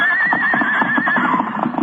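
A horse whinnies loudly and at length in an old-time radio western, its shrill, wavering neigh running nearly two seconds with a faint rumble of movement beneath.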